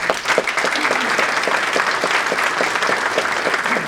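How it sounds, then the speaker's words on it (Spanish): An audience at a cybersecurity conference in Lima claps steadily and fairly loudly, a dense wash of hand claps that holds the same level from start to finish. "Les pido por favor un fuerte aplauso para ellos."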